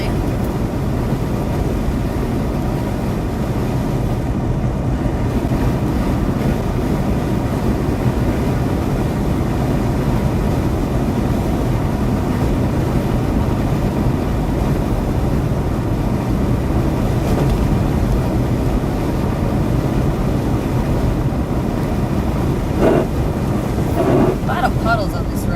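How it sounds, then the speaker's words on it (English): Strong wind from severe weather in the Ohio Valley roars and buffets the microphone continuously, a dense low rumble with no voices. "Still really windy though."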